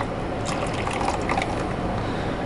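A cold cornstarch and potato starch mixture poured into rose hip soup in an outdoor autumn setting, a steady close liquid pour that runs unbroken from start to end.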